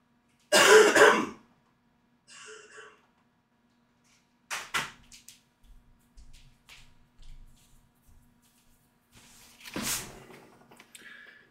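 A person coughs and clears their throat while sick: one loud, close burst at the start, a quieter throat sound, then several more coughs and throat-clearing sounds spread over the rest, with quiet pauses between them.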